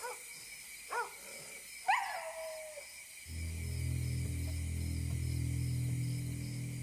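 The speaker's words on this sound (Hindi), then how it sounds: "इतना क्यों भौंक रहे हो? लगता है पूरे गांव को जगा दोगे।" A dog lets out three or four short, separated barks and yelps at night, fairly distant over a steady background hum, before a low droning sound takes over.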